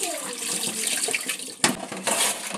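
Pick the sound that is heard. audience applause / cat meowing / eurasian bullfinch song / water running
water running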